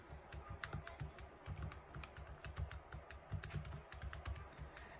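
Quick, irregular clicks of buttons pressed on a calculator keypad while numbers are entered, close and fairly quiet, bursts of taps with short pauses and no voices.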